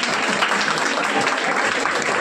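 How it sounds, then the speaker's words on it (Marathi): Sustained applause fills a hall at a grand event held by a retired primary teachers' association to honour a teacher, a dense, even patter of many hands clapping throughout without a break. "टाळ्या."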